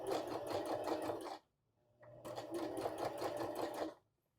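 A sewing machine stitches an abutted seam over tape, two close, rapid bursts of even mechanical chattering separated by a brief pause, with a faint click between runs.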